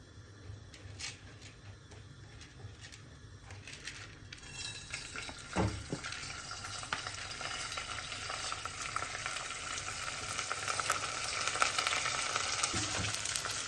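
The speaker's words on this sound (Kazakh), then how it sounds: "Енді осы майымызға салып қуырып аламыз." Washed rice frying in oil, crackling in a steady sizzle that builds and gets louder toward the end, broken by a few clinks of a utensil against the pan and no talking.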